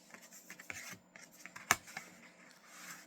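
Cardstock for a handmade Valentine card being cut along its 11-inch side, a quiet, dry rasping stroke with one sharp snap partway through.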